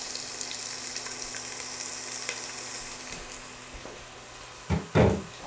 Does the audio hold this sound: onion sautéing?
yes